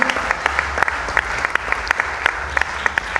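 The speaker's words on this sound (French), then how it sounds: "on peut encore une fois acclamer ce couple" A church congregation applauds a couple after their testimony, dense close clapping that stays loud and steady for a few seconds.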